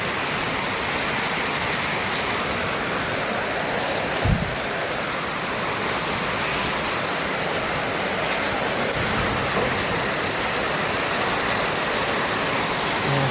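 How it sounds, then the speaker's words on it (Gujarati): Sudden heavy rain with strong wind pours down in a dense, unbroken roar close by, a loud steady wash of water with one brief thump partway through and no speech. "वरसाद चालू થઈ ગયો। जोरदार पवन चालू થઈ ગયો।"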